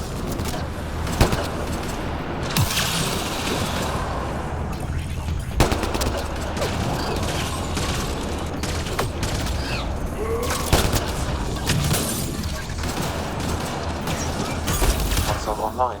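Steady gunfire rattles through a Mass Effect Andromeda firefight, with repeated bursts and sharp cracks spread across the stretch and combat voices scattered throughout.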